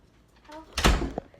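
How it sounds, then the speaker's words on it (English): A single heavy thud strikes a wall inside a house, loud and close, preceded by faint rustling. "It's banging on our wall."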